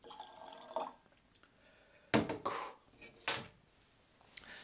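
Water drips into a glass of 37-year-old Port Dundas grain whisky with a few faint plinks and light glass clinks, close up and otherwise quiet.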